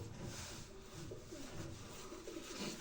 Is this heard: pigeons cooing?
yes